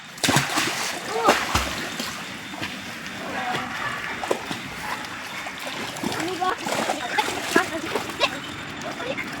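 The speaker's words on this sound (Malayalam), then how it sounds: "നമ്മളെ ജൂലി നീന്തി വന്നിട്ടുണ്ട്." A pug swims in a canal during a family dog bath, with steady splashing and water sloshing close by while people talk over it.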